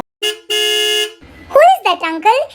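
A car horn honks twice behind an auto-rickshaw, a short toot then a longer blast, followed by a voice talking nearby.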